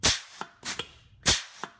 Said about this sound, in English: This is what your pump should sound like if it's working properly.